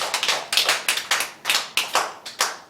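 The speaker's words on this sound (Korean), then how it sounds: "자, 여러분 박수 7번 시작!" A church congregation at a Sunday service claps hands together in seven loud, evenly spaced group claps, each a sharp burst that fades quickly, with no voices.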